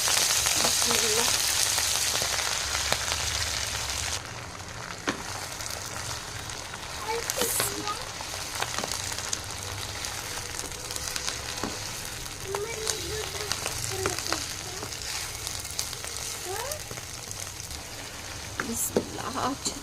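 Onions fry in a pan for a Kashmiri red and green spinach dish, giving a steady crackling sizzle with occasional stirring scrapes while a person talks over it.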